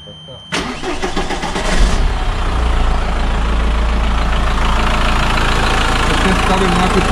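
A motorcycle engine cranks and catches, then settles into a loud, steady idle close by, its rough rumble continuing unbroken after the start.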